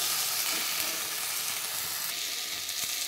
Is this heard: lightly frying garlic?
yes